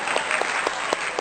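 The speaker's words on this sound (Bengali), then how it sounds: "জোরে হাততালি হোক, হাততালি দর্শক" Loud, steady applause from an audience at a balloon-popping game, with dense clapping throughout and a few sharper bursts standing out.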